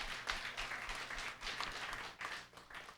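Church congregation at a Sunday service applauding, a steady dense patter of hand claps from the seated worshippers, fairly quiet and continuous with no talk over it.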